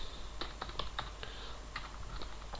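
Keys clack on a new computer keyboard in irregular bursts of typing, crisp and close, with short pauses between strokes and a faint steady hum underneath.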